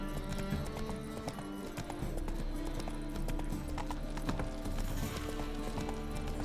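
Geralt's horse Roach from The Witcher 3 video game galloping, a fast steady clip-clop of hooves up close, continuous over a low musical backdrop.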